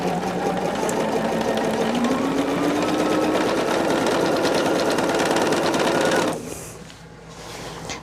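A sewing machine stitches pieces of quilt fabric in a steady, loud whir that runs for about six seconds, then cuts off abruptly, leaving a quieter room hum.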